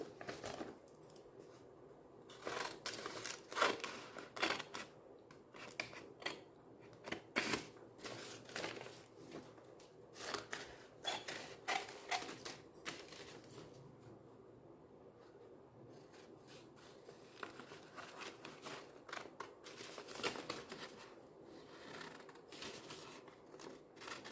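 Scissors cut cloth for a small doll dress in close, crisp snipping bursts that come in irregular runs with short pauses, and there is no talking.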